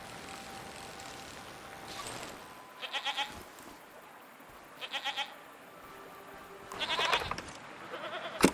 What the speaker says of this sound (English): What are these strange goat-like creatures?